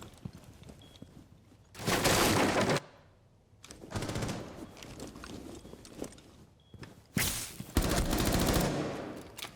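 Gunfire in a first-person shooter video game, with loud bursts of rapid automatic fire breaking out in several separate volleys between quieter stretches of footsteps and game ambience.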